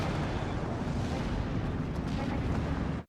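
Artillery fire in the strategy game Steel Division 2, heard as a continuous dense rumble of distant shelling and blasts at steady loudness that cuts off abruptly at the end.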